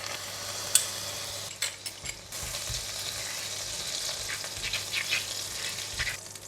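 Prawn flavouring hits hot oil in a pan, producing a soft, continuous sizzle with occasional scrapes and taps of a utensil stirring; fairly quiet with a low background hum and no talking.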